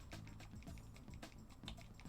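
Steady computer keyboard typing, quick clicking keystrokes at an uneven rhythm, played during a retro escape game about safecracking.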